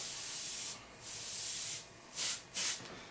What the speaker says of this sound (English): You can also come in and start frosting this out with your